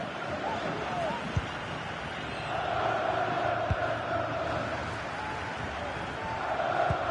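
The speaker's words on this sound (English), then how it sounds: "The crowd certainly think so. Just listen to that noise." Steady, broad roar of a stadium crowd in the football video game FC 25, swelling slightly midway, with a few dull thumps underneath.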